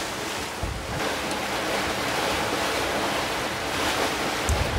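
Steady wind and breaking waves surround a sailboat under sail on a cruise off Borneo, a constant full roar of water and gusting air with a few deeper thumps of surf against the hull.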